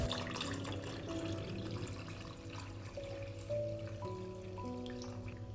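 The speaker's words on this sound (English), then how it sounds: "Next, I'll pour water into the pot until it reaches the level of the jar lids." Water pours steadily into a cooking pot packed with glass jars of blueberries, a soft continuous trickle and splash at moderate distance with no voices, the pitch shifting slightly as the level rises.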